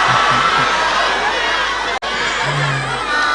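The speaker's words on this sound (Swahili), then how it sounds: "Pigia watu makofi." Dense crowd noise at an opposition ODM political rally in Kakamega, Kenya, with steady chatter, scattered shouts and cheering filling the whole stretch, loud and close, broken by one brief dropout.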